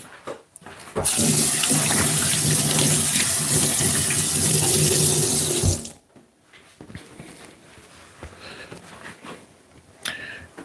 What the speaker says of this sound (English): Let me just wash my hand off a little bit.